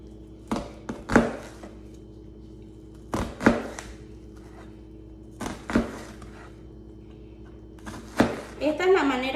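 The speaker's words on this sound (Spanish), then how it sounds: "Esta es la manera correcta de hacer la técnica de ciselado de cebolla" Knife chopping onion into brunoise on a board, heard as a few irregular bursts of quick sharp chops close by, separated by pauses, with a low steady background hum throughout.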